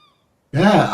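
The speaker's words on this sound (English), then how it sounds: "Just going to ignore the seagulls." Seagulls in the survival game Escape the Pacific give a sudden loud, harsh cry after a brief stretch of faint, thin calls in the distance.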